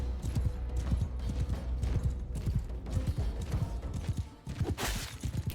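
Horse hooves clip-clop at a gallop through a video game battle with cavalry, a steady drumming of hoofbeats mixed with clashing combat noise, loud and close, and a brief whinny-like burst near the end.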